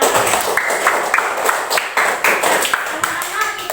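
Primary-school children in an Indonesian classroom clap together, a busy, close patter of hand claps under chattering young voices.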